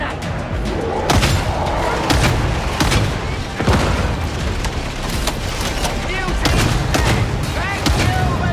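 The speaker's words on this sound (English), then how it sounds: "Throwing crack grenade!" Amid chaotic video game combat, a crack grenade explodes among dense gunfire and booming blasts, loud and continuous, with shouted voices mixed in.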